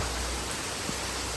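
Heavy rain pours down on the village of Bhaguda, with water running off the streets, as a steady, dense broadband hiss that stays even and close throughout, with no voices and only a brief faint knock partway through.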